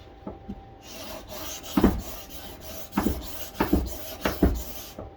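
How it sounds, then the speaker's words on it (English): Wood on a cigar box guitar is worked with a block sander in about half a dozen rhythmic rasping strokes, each a short gritty rub, close and clear with no talk. "so I'll finish it with my block sander."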